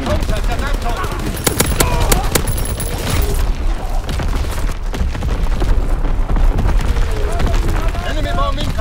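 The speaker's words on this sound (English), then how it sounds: "Incoming enemy artillery, get to cover." Artillery and gunfire from a Call of Duty: WW2 battle: loud, dense bursts of shots and booming explosions, sharp cracks clustered early, then continuous rumbling combat noise with scattered distant blasts throughout.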